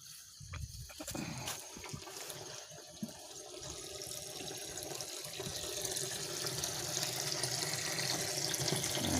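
Water running from a tap into a container, a steady rushing stream that grows gradually fuller and louder over nine seconds, with a few brief knocks early on.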